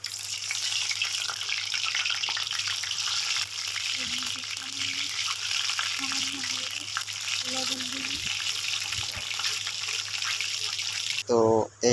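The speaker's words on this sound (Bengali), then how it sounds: "তো এখন ডিমগুলো ভাজা হবে।" Boiled duck eggs frying in mustard oil in a kadai, a constant bright sizzle running throughout with faint low clatter, a brief louder clang near the end; no speech.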